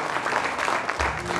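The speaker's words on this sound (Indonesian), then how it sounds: "Tepuk tangan dulu" An audience at a Musclemania bodybuilding show in Jakarta applauds, a dense steady wash of clapping that keeps going for the whole moment.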